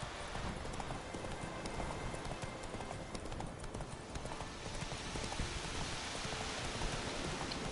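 Roach, Geralt's horse in The Witcher 3 game, trots with steady clip-clop hoofbeats through continuous rainfall, the hooves and raindrops blending into a dense, even wash at moderate volume.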